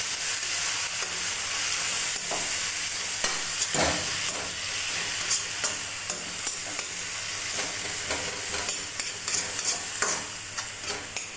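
Vegetables frying in a pan with turmeric and spices, a continuous sizzle broken by repeated scraping stirs of a spoon against the pan, close and moderately loud, with no voices.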